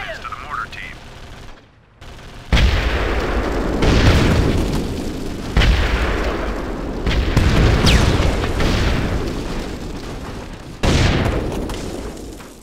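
Mortar strikes land in the Xbox game Full Spectrum Warrior as a run of heavy, booming blasts, each one rolling off into a long rumble, following a brief lull and continuing loud and close with little pause between them.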